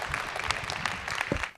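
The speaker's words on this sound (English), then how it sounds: "So round of applause, please." Brief burst of audience applause at a live tech conference: a quick wash of many hands clapping in a hall, fairly even and moderate in level, tapering off at the end.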